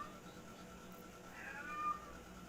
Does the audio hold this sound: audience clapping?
no